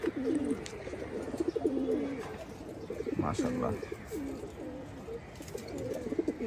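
Chila flying pigeons coo steadily in a loft, soft rolling coos repeating close by while someone speaks briefly over them.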